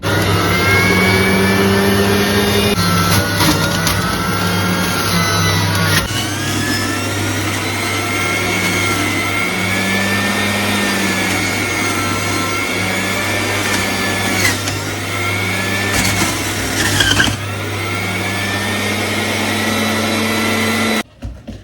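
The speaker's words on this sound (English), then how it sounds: "I'm just trying to see if I can actually blend it with the skin on." A new blender runs continuously on sea moss with the skin still on, a loud steady motor whine that shifts pitch several times as the load changes, close up, stopping abruptly at the end with no talk.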